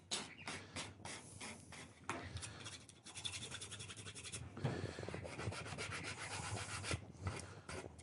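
Steady rough rubbing and scraping of a sanding block against wood, continuous strokes up close, with a brief pause and slightly heavier scraping later.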